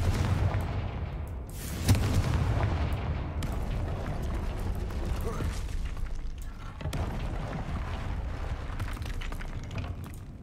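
Fire spell blasts in the Hogwarts Legacy video game: a dense, rumbling barrage of booming explosions that runs almost without pause, with sharp impacts near the start.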